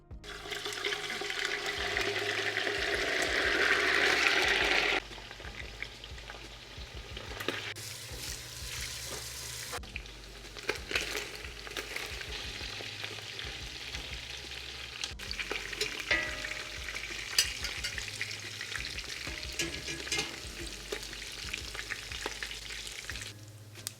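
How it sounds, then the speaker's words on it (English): Beef browning in hot oil with onion wedges, a dense steady sizzle that is loudest for the first few seconds, then settles into a softer continuous fry with scattered crackles and occasional stirring clinks. "So here I have these onions I have cut into wedges to perfume the oil as I brown the beef that has now tenderized."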